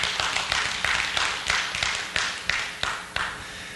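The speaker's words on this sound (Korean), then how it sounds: "박수 한번 해주세요." A church congregation claps in rhythm, a run of about a dozen sharp, evenly spaced claps fading slightly toward the end.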